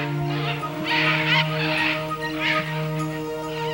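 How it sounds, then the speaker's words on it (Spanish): Birds call loudly at dawn in the Manu rainforest, harsh cawing and squawking calls repeating in bursts over a steady chorus of insects and other birds. "los pájaros saludan con un ruido ensordecedor la llegada del nuevo día"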